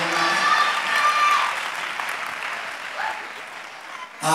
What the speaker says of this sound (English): Give them a round of applause to the bow dancers